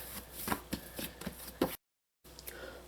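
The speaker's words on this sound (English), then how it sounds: "I'm just gonna knead this on the counter for about 5 minutes with my hands" Bread dough for a Trinidadian sandwich loaf kneaded by hand on a kitchen counter, giving a run of soft, close slapping and pressing thuds in an uneven rhythm, with a brief gap near the end.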